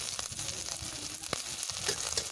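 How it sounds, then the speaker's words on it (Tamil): Curry leaves sautéing in a pan for village-style blood poriyal give a soft continuous sizzle and crackle with occasional sharper pops and stirring scrapes, close but low in level. "கருவேப்பிலை போட்டு நல்லா வதக்கியாச்சு"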